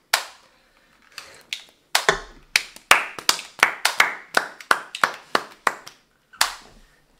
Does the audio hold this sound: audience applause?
yes